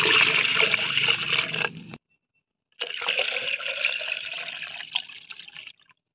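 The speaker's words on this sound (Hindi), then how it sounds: "तो इसमें हमें 4 लीटर पानी मिलाना है।" Water poured into a container of homemade liquid plant fertilizer, a loud steady splashing fill that stops briefly, then resumes as a continuous pour before tapering off.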